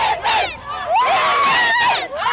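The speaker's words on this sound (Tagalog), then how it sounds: "Dumagungdong hanggang sa labas ng stadium ang sigawan ng mga Pinoy na saksi sa pagdepensa ng Gilas Pilipinas sa gintong medalya sa 33rd SEA Games" Filipino crowd roaring and shouting inside a stadium during a SEA Games basketball gold-medal game, loud sustained cheering with rising and falling voices, no individual speech.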